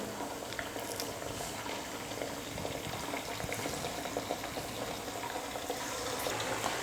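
Thavala vadai fritters sizzle steadily in hot oil, a dense, continuous crackling fry that holds at an even level throughout with no talking.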